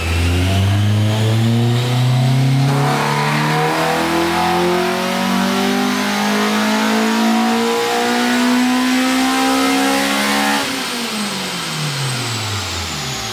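A tuned Honda K20-powered EG hatchback screams on a dyno, engine climbing steadily in a long loud wide-open pull, then dropping sharply as the throttle lifts near the end; no voices.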